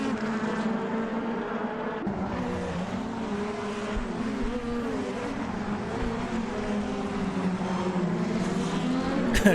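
A Super GT-style GT3 race car in the Assetto Corsa racing game at the Nürburgring Nordschleife gives a continuous, loud, buzzing engine drone held at high revs that swells slightly toward the end.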